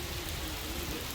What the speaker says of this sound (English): So there's the rain.